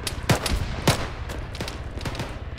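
Gunfire in the military shooter Arma 3: two sharp, close gunshots about half a second apart, followed by several fainter shots trailing off, over steady low background ambience.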